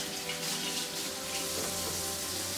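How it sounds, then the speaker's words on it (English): Hands being washed under a running kitchen tap while cooking homemade cream of chicken soup: a steady, full hiss of flowing water that continues unbroken throughout. "And I wash my hands."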